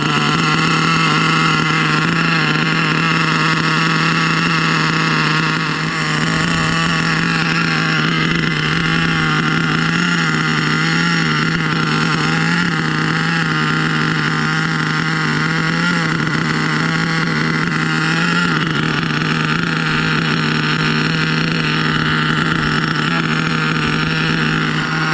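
An Exceed Madstorm RC car fitted with an HPI Savage nitro motor runs loud and close, its small engine buzzing steadily at high revs with slight waverings in pitch throughout.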